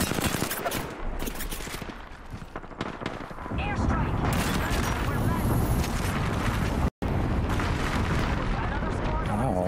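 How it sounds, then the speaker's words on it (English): An airstrike in a shooter video game sets off loud, sustained rolling explosions and gunfire-like blasts that swell and stay dense, with a brief cutout near the end and talk mixed underneath. "Airstrike"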